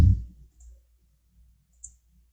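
A computer mouse gives a sharp, close click at the start, followed by a few much fainter small clicks and taps in near silence.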